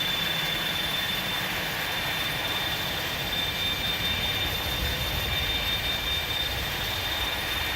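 Both jet engines of an iniBuilds A300-600R running in the X-Plane 12 flight simulator, a steady, even roar with a constant high whine, alone and unbroken.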